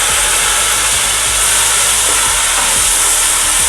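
Tomatoes dropped into golden-brown frying onions in a pan for mutton pulao, giving a loud, steady broadband sizzle and hiss that continues without a break, close to the microphone and with no talking.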